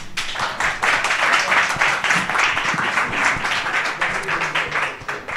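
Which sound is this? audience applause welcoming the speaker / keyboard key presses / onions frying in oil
audience applause welcoming the speaker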